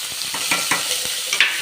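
Seasoning with fennel seeds splutters and fries in hot oil for a tamarind gravy. Dense, close crackling and sizzling continues throughout, with sharper pops and light stirring scrapes.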